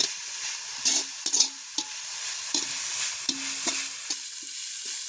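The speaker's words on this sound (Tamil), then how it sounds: "வெங்காயம் மிளகாய் எல்லாம் கொஞ்சம் வதங்கிடுது" Onions and chilies fry in a pan in a village kitchen, with a soft steady sizzle broken by repeated scraping strokes of a spoon as they are stirred, close and moderately quiet.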